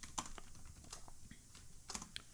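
A computer keyboard clicks softly as a short message is typed, with irregular light taps and a few quick clusters of keystrokes, faint and close, with no voices.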